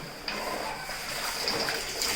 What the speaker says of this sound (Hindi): अब हम इसे एक एक करके कर्टन्स को रिंस करेंगे